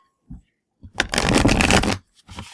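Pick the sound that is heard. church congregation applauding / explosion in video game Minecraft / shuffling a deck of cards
shuffling a deck of cards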